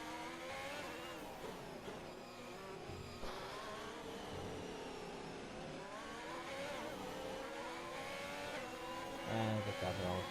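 Formula 1 video game race cars lapping a slower car, their engines a steady, muffled whine with rising revs that stays quiet and distant throughout, with no voices over it.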